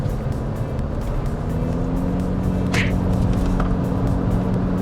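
A Toyota Fortuner Legender 2.8 diesel engine is held at full throttle, producing a loud, continuous drone with a steady tone throughout, with no talking.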